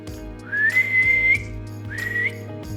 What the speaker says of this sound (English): They heard a whistle.